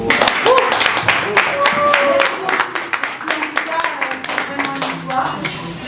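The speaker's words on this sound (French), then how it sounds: "veuillez applaudir" At a press conference announcing a concert, a small group claps in a loose, uneven burst that thins out toward the end while voices talk over and around it.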